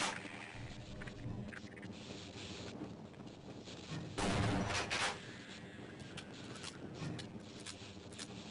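Shotgun blasts from the Half-Life: Blue Shift video game ring out amid dense, constant game noise, with a louder cluster of shots a little past the midpoint.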